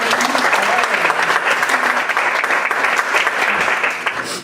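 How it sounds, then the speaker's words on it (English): An audience at a faculty presentation gives a sustained, dense round of applause, many hands clapping together loudly in a hall, with a brief voice audible beneath. "if you could give them a round of applause"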